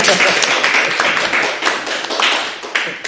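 A small studio group claps on a talk show about election readiness, a loose patter of hand claps with a few sharper slaps, close and brief, fading slightly toward the end.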